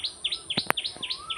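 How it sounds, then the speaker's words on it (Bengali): An Asian koel calls outdoors in a garden at sunrise, a series of repeated clear whistled notes at a steady rhythm, fairly close and distinct, with a couple of brief sharp clicks between them. "কোকিল ডাকছে দেখো কি সুন্দর"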